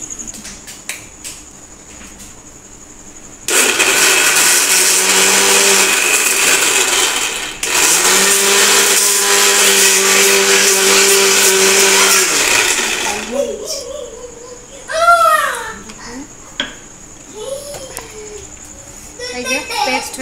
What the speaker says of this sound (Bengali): এই যে এবার এগুলো তুলে নিচ্ছি, মিক্সিতে পেস্ট করব।